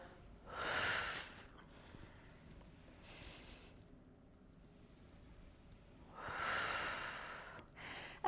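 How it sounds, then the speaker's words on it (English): Slow, deliberate yoga breathing during a vinyasa flow: two long, airy breaths a few seconds apart with a fainter one between, close and soft in a quiet room, no voices. "Let's slow it down for an inhale and switch for the exhale."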